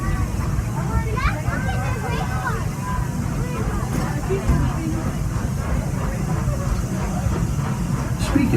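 Walt Disney World Railroad train carrying passengers rolls steadily with a continuous low rumble throughout, while crowd chatter and voices murmur over it.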